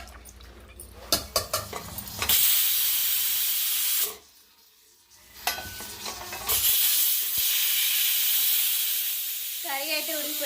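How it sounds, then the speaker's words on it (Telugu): A pressure cooker of mutton curry on the stove lets off loud hissing bursts of steam, long sustained blasts broken by a short quiet gap, with faint kitchen clatter and a brief tonal whistle near the end. "మూత పెట్టేసుకొని ఒక 2 విజిల్లు వచ్చిన దాకా ఉంచేసుకొని కర్రీ అయితే దింపేసుకుందాం"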